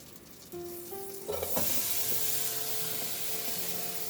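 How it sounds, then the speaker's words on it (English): Chopped celery, carrots and onion drop into melted butter in a pot and start to sizzle, a sudden loud hiss that settles into a steady frying crackle, with a few soft scrapes of stirring. "We're just going to saute that for 5 minutes."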